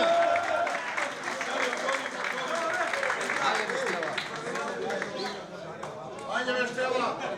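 Crowd applause at a reunion gathering of generations of the Teteks Tetovo football club, sustained and fairly loud throughout, with voices, cheering and a PA voice mixed over the clapping.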